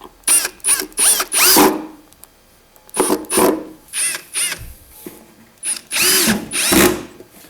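A power drill drives screws into the parts of a Kenyan top-bar beehive, giving loud close bursts of whirring and ratcheting in about four groups of short pulses with quiet gaps between.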